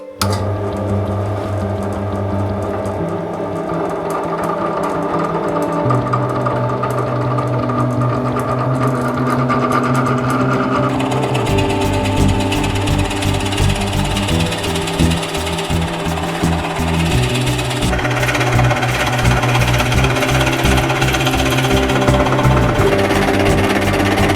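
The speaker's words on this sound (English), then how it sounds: "getting this to the drill press, hogging out some of this material" A drill press drones loudly and continuously, its pitch shifting as it bites into wood for a guitar build, with no talking over the steady mechanical roar.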